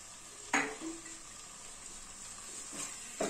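Raw jackfruit tossed with chilli sauce in a pan, giving a few soft, brief scrapes of the spoon over a low, steady background hiss.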